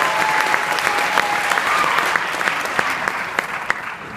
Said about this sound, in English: So clap it up for yourself real quick